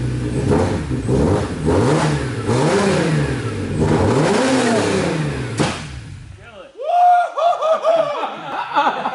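A BMW E46 M3 engine roars and revs hard in rising and falling surges, then sputters down as excited voices and laughter break out nearby.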